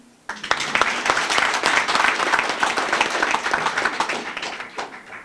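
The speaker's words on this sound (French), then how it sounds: "Maintenant, je vais vous demander de vous applaudir vous-même." A crowd at a Guinean ministerial speech claps for itself, steady dense applause with sharp individual claps near the front, sustained for several seconds.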